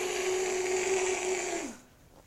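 A child imitates a meat-eating dinosaur with a steady rasping, snore-like growl held close and loud for nearly two seconds before dropping away into a quieter tail.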